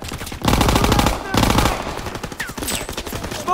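Machine gun fire from a German MG position on a staircase in Call of Duty WWII: loud, rapid bursts of automatic fire in two main volleys, followed by scattered shots and battle noise.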